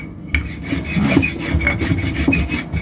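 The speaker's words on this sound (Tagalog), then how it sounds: "Maingay yung pambilog ko." Wooden rasping and rubbing as a wooden rolling pin works back and forth over paratha dough, with occasional knocks, close and fairly loud, no voices.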